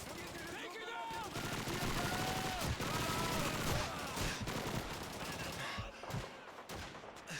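Rapid machine gun bursts and scattered gunfire from a Call of Duty battle, loud and dense throughout with other combat noise layered over it.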